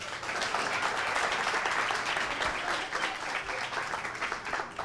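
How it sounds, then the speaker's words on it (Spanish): Audience applause at an evening ceremony fills the whole stretch, steady and dense, with only faint voices beneath. "Démosle un fuerte aplauso,"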